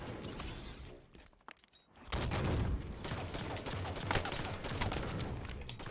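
Gunfire in a Halo 5 multiplayer match: dense rapid bursts of shots, a brief near-quiet lull, then sustained loud firing with mechanical clicks, with no talking.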